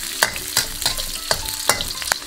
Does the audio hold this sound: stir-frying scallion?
yes